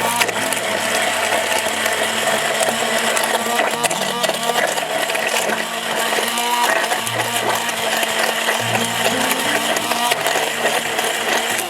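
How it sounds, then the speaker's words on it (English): An emulsion blender whirring steadily while mixing tallow lotion, a continuous close mechanical drone with a shifting low hum and no pauses. "we'll come back over here with the emulsion blender"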